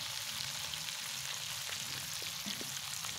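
Marinated chicken pieces frying crisp in a pan, giving a soft, continuous sizzle heard at low volume from a slight distance, with a few faint pops and no talking.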